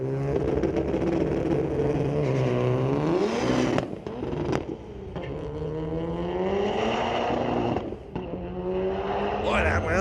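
Street-legal race cars at a drag strip scream past, engines revving with whining tire noise. The pitch rises and falls in sweeps, broken by brief gaps, while an announcer's voice runs faintly underneath.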